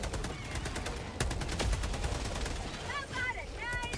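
Rapid machine gun fire in the co-op shooter Helldivers 2, a dense run of sharp repeated shots over busy game noise, with chirping effects toward the end.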